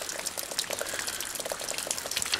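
Shallow water laps and trickles over gravel along a Missouri creek shore where arrowheads are hunted, a close, steady run of small splashes and gurgles.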